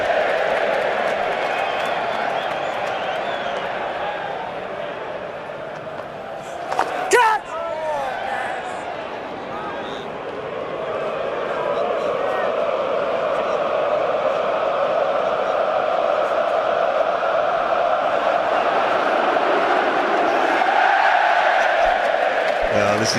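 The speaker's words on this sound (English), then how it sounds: "Every time Nathan Lyon catches the ball, the crowd cheer." A cricket crowd roars and cheers after a catch by Nathan Lyon, a distant swelling wash of voices that rises briefly and then rises again, under continuous commentary.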